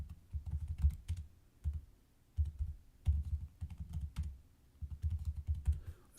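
Fingers typing on a computer keyboard in bursts of quick, clattering keystrokes with short pauses between runs, close and clear with no talking.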